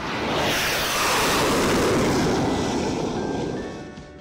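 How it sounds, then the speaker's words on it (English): A loud jet engine roars in a broad, steady rush that swells and then slowly fades as the aircraft passes. "A jet engine could be around 120 decibels, if you're standing close by."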